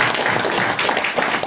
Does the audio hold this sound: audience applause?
yes